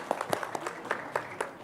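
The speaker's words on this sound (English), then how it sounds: "A huge round of applause, please" Sparse applause from the audience at the NDTV IND.AI Summit 2026 in India, a handful of distinct, separated claps at close range rather than a full ovation.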